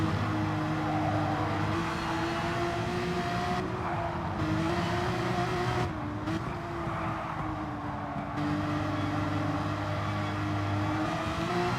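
A race car engine drones loudly and continuously at Autopolis in a sim racing endurance race, a steady high whine with slight pitch shifts as another car closes and passes alongside.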